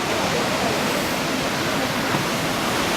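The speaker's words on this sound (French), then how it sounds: "C'est principalement du shore break." Shore break waves on a beach at Anglet, France, at high tide, making a steady, loud wash of surf noise that rolls on without pause and with no voices.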